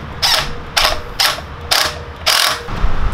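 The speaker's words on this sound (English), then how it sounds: "I'm having to use the boxed inside of a wrench and just do it little bits at a time" A wrench working a muffler hanger bolt on a 150cc go-kart a little at a time: four short, evenly spaced bursts of close metallic clicking, each about half a second long, over a low background hum.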